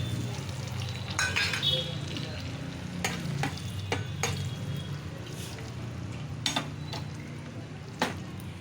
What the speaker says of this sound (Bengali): এবার আমি এখানে তেজপাতা, একটা শুকনো লঙ্কা আর গোটা গরম মশলাটা দিয়ে দিচ্ছি।